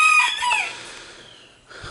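A few farmyard chickens pecking at fallen bean seed outdoors, with a couple of short bright clucks and calls near the start that fade into quiet, followed by a soft low bump at the end.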